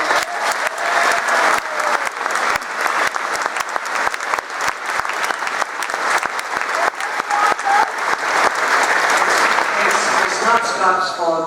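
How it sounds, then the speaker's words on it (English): Crowd at a Belfast boxing press conference gives boxer Scott Quigg a long round of applause, loud, uneven clapping with sharp individual claps, and a voice starts talking near the end. "please give Scott a round of applause"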